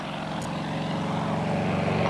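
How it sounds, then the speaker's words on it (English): A helicopter flying fast backwards through a 180-degree turn, its rotor chopping in a steady, pulsing drone that grows slightly louder as it nears. "we've all seen helicopters fly backwards, but I want you to watch the speed at which this one flies backwards"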